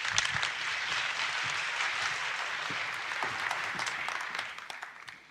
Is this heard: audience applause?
yes